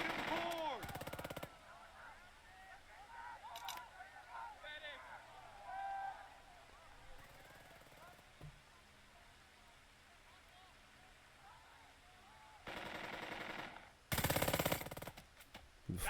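Machine gun fire rattles in the Burden of Command tactical war game, with short, sharp bursts popping up among quieter stretches, mostly near the end, along with some other game sounds.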